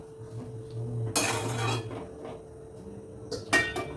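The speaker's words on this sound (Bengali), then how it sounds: "এইভাবে অনবরত কিন্তু নাড়াতে হবে" Semolina is stirred in a kadai, with a spoon scraping and clinking against the metal pan in two short bursts over a faint low hum.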